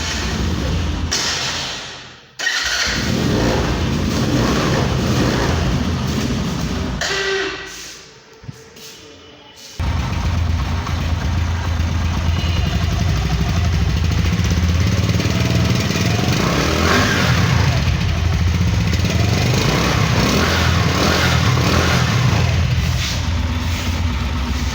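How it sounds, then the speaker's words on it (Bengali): A used Dayang Bullet 100cc motorcycle with about 6,674 km on it runs its engine at a used-bike market, a loud continuous drone that dips and briefly cuts out near the start before holding steady. "চলুন এবার আমরা বাইকের একটু সাউন্ড কোয়ালিটিটা একটু দেখে আসি কী রকম আছে সাউন্ড।"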